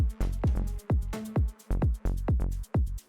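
Synth notes panned between left and right play in a quick, punchy sequence. Each short tone drops sharply in pitch, with brief gaps between the hits, and no one talks.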